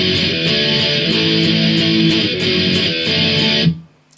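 Distorted electric guitar power chords playing the chorus of a song, a steady driving pop-punk rhythm of chugged strums, loud and close with no voices, cutting off into a short decay.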